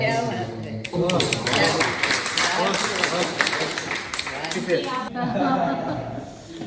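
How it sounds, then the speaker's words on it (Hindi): Audience applause at an honouring event in Chandigarh, dense clapping running almost the whole time under loud talk, with some light chuckling. "जो आपकी खुराक है तालियां हम बजाते हैं"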